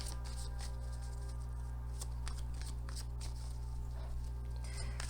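Cards being shuffled close up, a quick run of crisp riffling flicks over a low steady hum, no voices.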